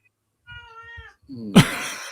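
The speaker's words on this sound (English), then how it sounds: "even the cat's getting annoyed by the lanterns" A house cat gives a drawn-out, tonal meow, then a sharper, louder yowl close by, with no talk over it.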